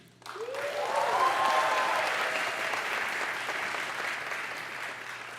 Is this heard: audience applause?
yes